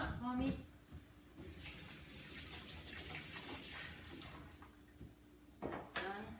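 Tap water runs steadily over a tool coated in a freshly smoothed thin coat, kept wet so it won't harden; a continuous splashing rush with a person talking nearby before and after.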